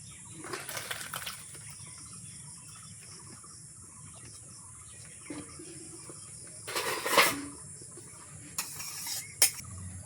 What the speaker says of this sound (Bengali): আমি নামিয়ে নেব, একটা বাটিতে ঢেলে নেব